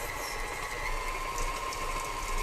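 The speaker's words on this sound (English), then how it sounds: "I'm on like a 2-speed on the KitchenAid, and I'll go up to a 4." A KitchenAid stand mixer churns peanut butter cookie dough with an even, steady motor whir and hum that runs through the whole stretch at a fairly low level, with no talking.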